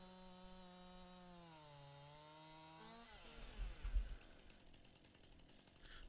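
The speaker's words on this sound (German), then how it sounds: "Zack, da sägen wir mal durch." Chainsaw in Farming Simulator 19 cutting through a standing tree, starting with a steady idling drone that revs up as the blade bites into the trunk, then grinding and rattling loudly through the cut.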